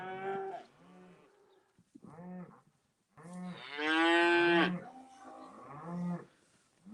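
Beef calves bellowing in a run of close, drawn-out moos with short pauses between, one call much louder and longer than the rest.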